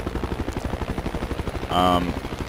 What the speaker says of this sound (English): with the helicopters, as you can see, it took him a while to start up